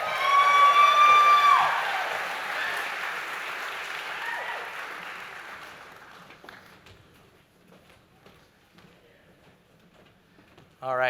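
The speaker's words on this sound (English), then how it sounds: "Another round of applause for Jet Bugle on that solo." Loud audience applause for a solo at a high school spring concert choir performance, strongest at the start and gradually dying away to near silence, with scattered claps and a brief voice at the end.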